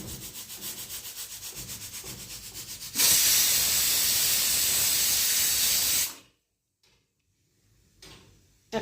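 A pressure cooker lets out a loud, steady steam whistle for about three seconds while potatoes boil inside, preceded by a softer pulsing hiss and followed by near silence with a faint later rustle.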